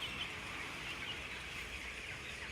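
Chickens packed in a factory farm barn make a dense, continuous murmur of clucks and calls, steady and moderately faint throughout with no talk.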